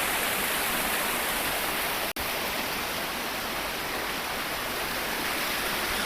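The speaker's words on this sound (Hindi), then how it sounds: "देखिए कितना सुंदर झरना पहाड़ों से गिर रहा है।" Steady, full rushing roar of a waterfall falling from mountains, constant and close, with one brief dropout partway through.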